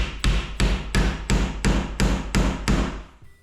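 A hammer strikes timber architrave in eight sharp, evenly spaced blows, each a loud woody knock followed by a brief ring, then it stops.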